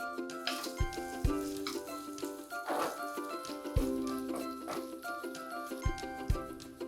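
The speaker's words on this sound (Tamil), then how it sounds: "தக்காளி போட்டு இப்போ அதையும் நல்லா வதக்கி எடுக்கணும்." Tomatoes with ginger garlic paste sauté for mutton kuzhambu, with a soft sizzle and intermittent spatula knocks against the pan over a steady background hum, fairly faint and close.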